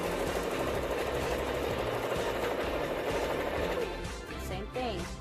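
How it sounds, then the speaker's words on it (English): A home sewing machine stitches quilt blocks for a signature quilt in a zipper pattern, a steady close whirring hum running almost without pause before slowing near the end. "If you got to do a couple of stitches on the next block, go ahead and do so, just to anchor it down"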